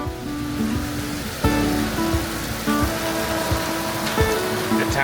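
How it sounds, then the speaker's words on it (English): Steady rain pours down on a garden bed during a storm, a dense, even hiss of drops with a few heavier spatters, close and loud, no one speaking. "Here comes the rain."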